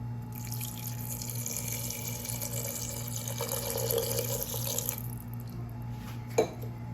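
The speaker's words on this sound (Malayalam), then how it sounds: "ഒന്നര ഗ്ലാസ് വെള്ളം ഒഴിച്ചു കൊടുക്കാം" About one and a half glasses of water are poured steadily into a pressure cooker of potato curry with turmeric for about five seconds, then stop, followed by a single light clunk.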